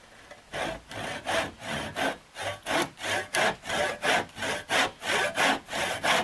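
Hand saw cutting cedar strip boat wood at a 45-degree angle for a repair, with steady rhythmic back-and-forth strokes, about fifteen close, loud pulses growing slightly stronger, no talking.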